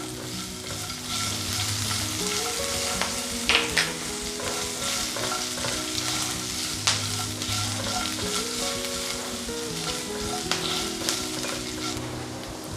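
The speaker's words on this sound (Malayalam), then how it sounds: "കാഷ്യൂനട്ട് മുളകും ഒക്കെ മൂത്ത് വരുന്ന സമയം കൊണ്ട് നമുക്കിതിലേക്ക് പച്ചമുളകും ചെറുതായിട്ട് അരിഞ്ഞ ഇഞ്ചിയും ഇട്ട് കൊടുക്കാം" Cashews, green chillies and chopped ginger sizzle and crackle in hot oil in a pan, a steady close frying hiss broken by scraping stirs.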